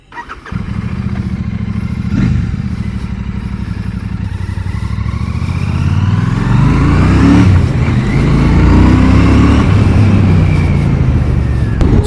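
A Royal Enfield Classic 650 motorcycle starts and rides off, a loud close engine note that climbs through the revs as it accelerates, with no talk.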